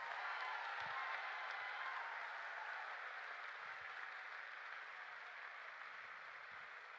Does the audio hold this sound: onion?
no